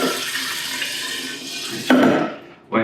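96% alcohol poured over lemons in a jar for limoncello, a loud, close, steady liquid gush lasting about two seconds, then a brief top-up splash.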